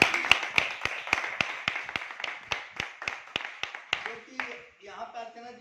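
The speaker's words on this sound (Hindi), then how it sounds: "शंभुनाथ जी के लिए एक बार जबरदस्त ताली।" At a meeting in Sonia Vihar, an audience claps in steady unison, about sixteen crisp, evenly spaced beats for speakers on stage, before a voice takes over at the end.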